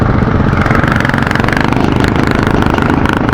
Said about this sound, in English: That's a big CRF then, is it? A 450 then?